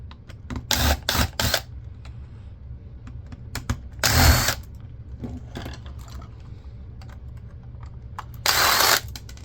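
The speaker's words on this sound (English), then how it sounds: "Whatever screws are visible, I'm taking out." Screws being removed from a 1982 G&E camcorder: a series of short, close clicks and scraping taps, with several louder bursts of rattling metal, spread unevenly and heard alone.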